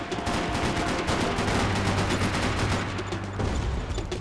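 Sustained M4 rifle fire in the Max Payne 3 multiplayer game, dense rapid bursts of shots rattling continuously for several seconds, loud and close, with no talking.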